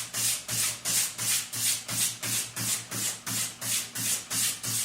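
An axe edge being sharpened with steady back-and-forth strokes, a loud, close rasping rub repeating about a dozen times at an even rhythm, with no talk.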